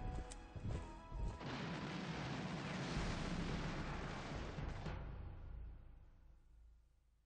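Bombs from the video game Panzer General 2 hit in a loud, sustained explosive roar. It starts with a few sharp cracks, swells into a broad rumbling blast for several seconds, then fades out with no talk.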